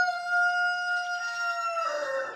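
A rooster on a small farm crows once, a single loud, clear, drawn-out call heard close up in a quiet barn, with no voices.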